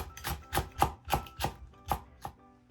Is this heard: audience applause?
no